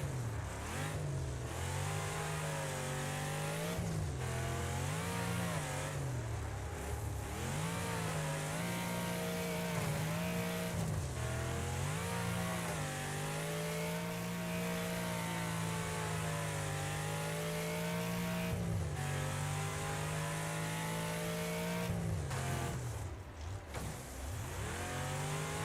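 Race car engines from the game Wreckfest drone and rev continuously, the pitch rising and falling with gear changes and throttle, while rougher bursts suggest collisions.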